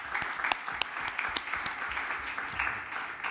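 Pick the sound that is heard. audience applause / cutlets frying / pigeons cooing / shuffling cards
audience applause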